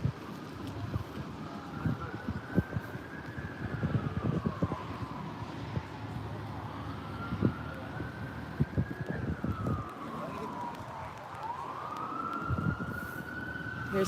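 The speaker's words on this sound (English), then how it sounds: "Here's sirens from the south," An emergency siren wails, rising and falling in long slow sweeps at a moderate distance, with wind buffeting the microphone throughout.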